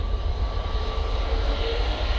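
Steady, loud roar of an airplane engine during takeoff from a runway at Manchester Airport, a continuous broad rumble with a faint whine running through it and no speech.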